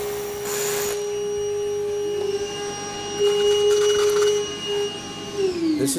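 A vacuum cleaner runs steadily with a droning whine, clearing dust from a hole drilled in a concrete floor, its pitch shifting slightly as the nozzle moves, then winding down at the end.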